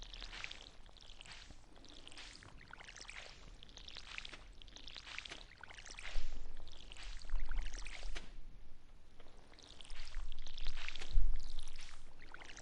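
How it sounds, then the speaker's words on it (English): Water pours and splashes from a watering can onto crops in the farming game Stardew Valley, a steady bright hiss in repeated bursts that swell louder partway through, with no voices. "I've just got to water my plants"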